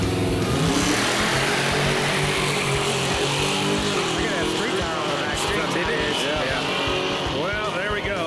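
A 1952 Kaiser Henry J revs through a quiet burnout at a drag strip, its engine roaring loud and sustained with rising and falling pitch, while an announcer talks over it.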